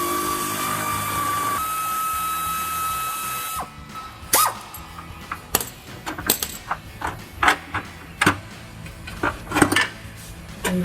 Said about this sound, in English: use a 3/8 air ratchet